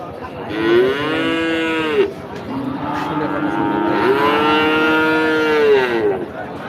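Cattle at a livestock market moo loudly and close by, with two long, drawn-out lowing calls one after the other.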